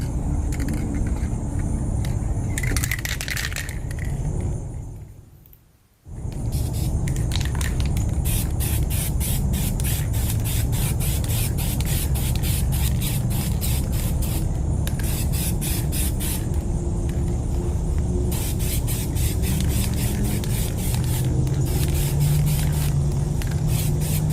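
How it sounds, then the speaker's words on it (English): Aerosol spray paint applying a base coat to Infiniti G37 sedan wheels, a loud continuous close hiss with one short break near the start, then long steady spraying. "Now it's time to add 1 layer of our base coat."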